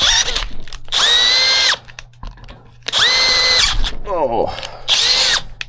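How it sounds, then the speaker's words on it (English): A power drill whines in three loud bursts, grinding as it bites into metal, with a brief exclamation from a voice between bursts. "The trick is to pull back on the drill, not push forward, because these things bite hard."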